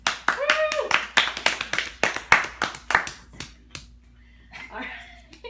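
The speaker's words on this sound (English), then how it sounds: "Applause. Woo!" Scattered, sharp hand claps from a small audience ring out close by, thinning and tapering off, with a brief voice near the end.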